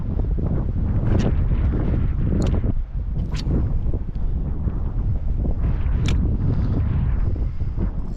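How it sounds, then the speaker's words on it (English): Strong, cold wind buffets the microphone at a river entrance during fishing, a steady loud roar with gusty swells and a few brief higher rustles throughout. "It's getting a bit cold now with that wind."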